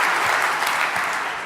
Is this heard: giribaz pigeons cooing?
no